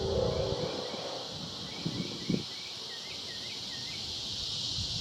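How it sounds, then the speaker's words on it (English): A constant high, droning buzz of cicadas fills the background, steady throughout, with a couple of faint soft knocks near the start. "We'll let the cicadas have their moment."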